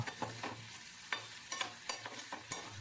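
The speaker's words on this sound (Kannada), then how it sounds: "ಎರಡರಿಂದ ಮೂರು ನಿಮಿಷ ಚೆನ್ನಾಗಿ ಫ್ರೈ ಮಾಡ್ಕೊಂಡಿದ್ದೀನಿ ಕ್ಯಾಪ್ಸಿಕಮು ಕೂಡ ಸ್ವಲ್ಪ ಮೆತ್ತಗಾಗಿದೆ" Capsicum fries in a pan while being stirred, giving a soft steady sizzle broken by several sharp scraping strokes of the spoon, with no talking.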